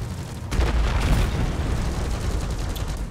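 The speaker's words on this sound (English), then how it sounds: "I'm gonna assume that was your railgun, Drake." A railgun fires in the video game Deep Rock Galactic: one sharp, heavy boom breaks out of a steady background, then trails off into a dense, rumbling wash of noise that lasts several seconds, with no voices.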